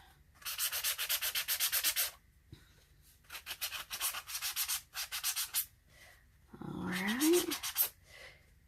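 Sandpaper rubbing over well-washed firefighter gear fabric in three bursts of quick back-and-forth strokes, close and fairly loud with short pauses between, the last burst rougher and uneven.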